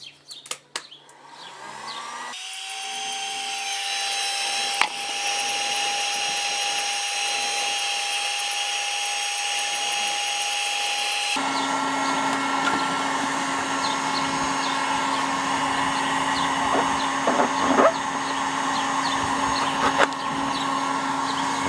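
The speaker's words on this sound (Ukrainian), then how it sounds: "допомогою фена я розігрію трубу." Hair dryer blowing steadily to heat a plastic pipe for a homemade poultry feeder, a loud continuous whine that shifts pitch partway through as the setting or position changes, alone without talk.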